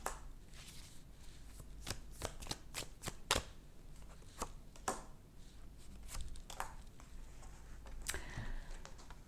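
Tarot cards are shuffled by hand in a quiet room, a faint series of irregular crisp riffles and soft snaps spread across the moment with no talking.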